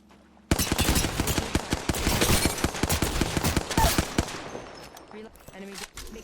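Rapid bursts of automatic gunfire from a weapon combination in the shooter game Apex Legends crackle loudly for about four seconds, then fade into sparse, quieter shots.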